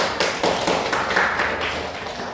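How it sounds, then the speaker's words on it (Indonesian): A classroom of students claps on cue after finishing a lesson, a short burst of dense, close-up hand claps that gradually thins out. "Beri tepuk tangan semua."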